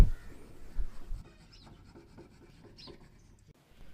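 A front brake shoe from a Bajaj Chetak scooter is rubbed down to fit, making rhythmic close scraping strokes that are louder at first and then quieter, with no talk.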